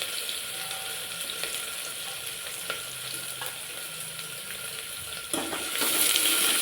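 Chopped onion and small rounds of green chilli hit a hot pan with cumin for idli upma, giving a steady soft sizzle and faint stirring that rises into a brighter hiss near the end, with no talk.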